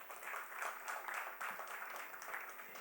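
Audience applause at a stage show, a steady patter of many hands clapping across the whole stretch with slight swells, moderately faint and without talk.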